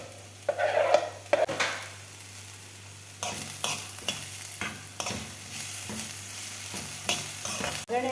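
Sliced spring onion and dry onion frying in a pan for a capsicum curry, with a crackling sizzle and repeated scraping stirs at close range and no talk.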